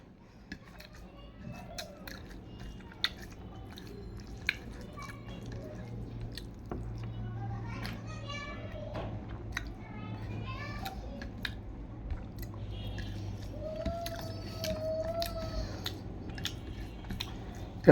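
Close, soft wet chewing and smacking from someone eating a lunch of dal and rice, with irregular bites spread across the whole stretch over a low steady background hum; no talking.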